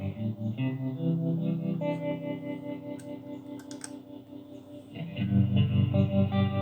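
Spring reverb on a guitar amp during a monitor and amp sound check, sustained guitar notes washing into a lingering reverberant tail with a few clicks, moderately loud and without talk.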